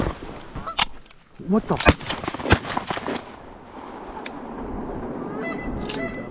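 Wild geese honk over a Pennsylvania goose hunt, mixed with several sharp shotgun blasts in a quick burst, then a steady outdoor background. Hunters speak briefly nearby.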